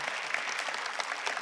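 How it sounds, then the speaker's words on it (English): Church congregation applauding, a steady, full burst of clapping from many people filling the room. "let's give our God a round of applause"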